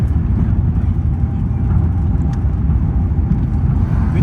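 Steady low cabin roar inside an Etihad Airbus A380-861 climbing out of London Heathrow just after takeoff, a constant loud engine and airflow rumble with no breaks.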